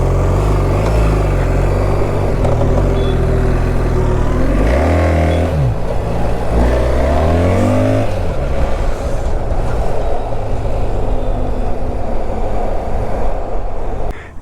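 A BMW R1300 GS motorcycle cruising on a highway between Chandigarh and Ahmedabad gives a steady, loud engine drone with wind rush, a rising and falling rev around the middle, and no voices.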